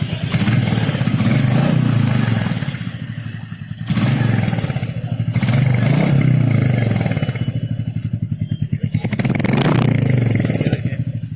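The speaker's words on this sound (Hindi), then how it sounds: "आपको एग्जॉस्ट में काफ़ी अच्छा नोट देखने को मिलेगा।" A Royal Enfield Supernova or a Honda CB350 Highness motorcycle revs its exhaust up close, a loud, thumping single-cylinder note rising and falling in repeated throttle blips, with no talk.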